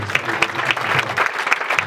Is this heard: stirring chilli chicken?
no